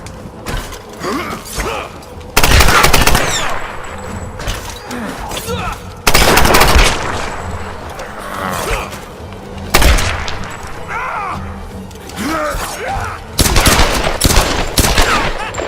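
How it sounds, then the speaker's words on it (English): Bursts of gunfire ring out in the 2017 Tomb Raider video game, loud rapid volleys repeating in several clusters amid mechanical clanks and creaks, with a player's voice talking between shots. "Keep firing!"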